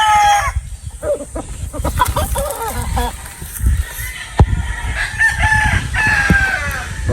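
Boston gamefowl breeder rooster crowing several times near a small flock, with hens clucking and people talking in the background throughout.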